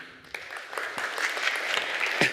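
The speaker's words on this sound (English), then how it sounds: "I don't know if you're clapping for the water" A tech-talk audience on the actor model claps during a water break, soft scattered clapping that swells gradually, heard at a moderate distance.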